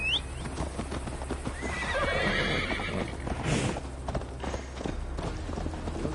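Horse in the video game Assassin's Creed Valhalla, ridden at a gallop: quick rhythmic hoofbeats and a whinny, fairly close, set against a low ambient rumble.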